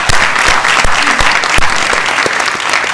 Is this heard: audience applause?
yes